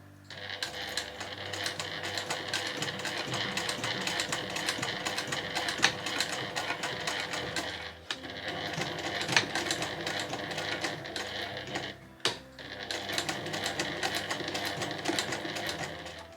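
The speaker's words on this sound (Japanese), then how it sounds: "ミシンで表を見ながら縫っていかれるといいと思います" A sewing machine runs in a steady, continuous stitching whir while sewing two vertical seams along a fabric shoulder strap, with brief pauses near the middle and a short stop before resuming. It is fairly loud and close, with no talk.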